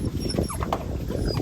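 Dogs on a farm whine and yelp excitedly in short bursts over a busy, noisy background, close to the microphone.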